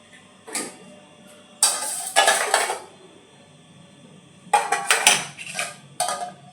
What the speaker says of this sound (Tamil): அந்த முட்டையை இப்போ நம்ம உடச்சி இதோட சேர்த்துட்டு நல்லா இதை மிக்ஸ் பண்ணிக்கலாம்